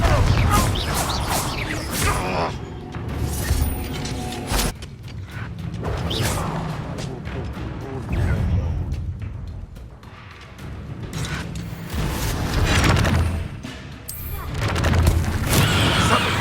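The Confringo blasting spell goes off in the Hogwarts Legacy game, several loud booming bursts and crashing impacts spread across the scene, separated by quieter moments, with faint voices in between.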